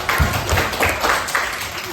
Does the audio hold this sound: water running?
no